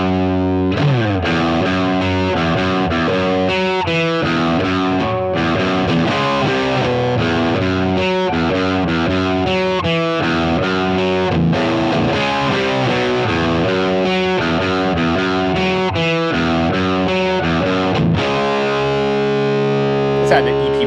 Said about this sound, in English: This is the model, I call it Friedman Dirty. It's basically a Marshall Plexi on steroids.